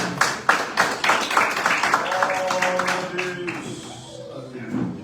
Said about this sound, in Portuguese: Pode aplaudir o nome do Senhor, porque Ele merece.